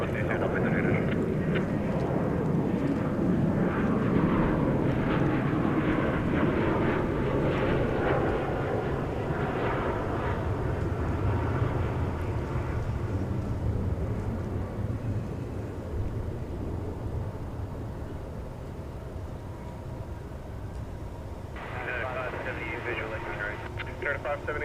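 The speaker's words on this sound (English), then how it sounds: "Meanwhile, this 767 is going behind a fence here." A Boeing 767 airliner taxiing at DFW Airport, its jet engines giving a steady broad roar that slowly eases off, heard from outside at a distance.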